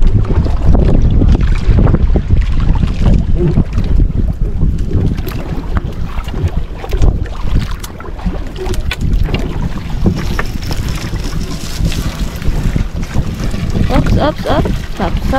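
Strong wind buffets a small fishing boat out at sea, a steady loud roar with gusting microphone noise throughout, with faint water sounds beneath.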